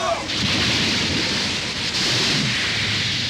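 A storm at sea with rain and thunder: a dense, steady roar of rain and wind with low rumbling swells throughout, continuous and loud, with no voices.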